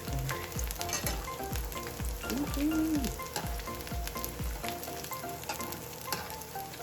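Vegan calamari shallow frying in a little oil, giving a soft steady sizzle with scattered light pops and a few faint thuds, moderately quiet and close, with no talking.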